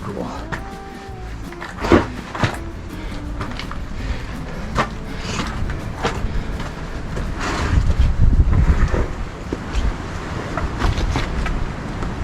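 Strong wind on Old Rag Mountain in Virginia buffets the microphone with a low rumbling roar that swells midway, while hikers talk among the rocks.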